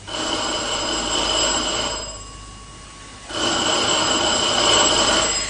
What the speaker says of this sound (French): lorsque le téléphone sonna